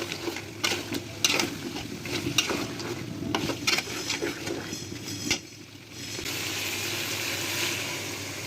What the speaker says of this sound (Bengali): আলুগুলো দিয়ে আরেকবার ভালো করে কষাই দেবো